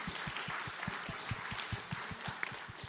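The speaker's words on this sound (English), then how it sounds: "Y'all can clap, give it up," An audience at a dialogue event applauds together, steady dense clapping with a strong rhythmic beat that holds for the whole stretch at an even loudness.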